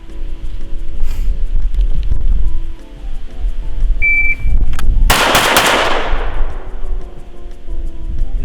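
Gunfire during close retention shooting practice, loud and close, with a dense, rough burst of shots and a bright crack near the middle that rings out and decays over a noisy background.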